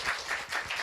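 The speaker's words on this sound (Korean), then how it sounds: "큰 박수로 우리 또." A church congregation claps together, a dense, even patter of many hands, fairly close and steady through the short moment, with no talking over it.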